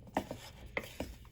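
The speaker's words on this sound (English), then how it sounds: "Using my wooden spoon, I'm going to stir it and mix it all up." A wooden spoon stirs fruit salad in a bowl, giving a few soft, quiet scrapes and knocks spaced irregularly, close by with no talk.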